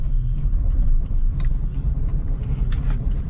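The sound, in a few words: manual car driving slowly in first gear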